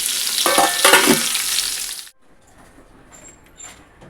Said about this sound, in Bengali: আমি পটল ভাজা একবারে সব বসিয়ে দিয়েছি এখানে